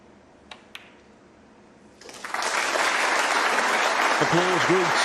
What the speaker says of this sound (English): Applause greets John Higgins' second century today